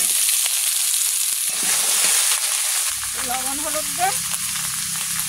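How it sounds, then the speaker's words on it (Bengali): Vegetables frying in hot oil in a wok, a steady soft sizzle that runs throughout, with a person speaking over it partway through. "কড়াইতে তেল দেবো। আস্তে আস্তে তরকারিগুলো সব ভেজে নেব।"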